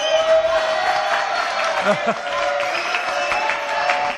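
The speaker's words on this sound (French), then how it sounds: "Applaudissements, s'il vous plaît." A studio audience claps and cheers steadily at a French television comedy show, a dense, continuous wash of applause at close range throughout.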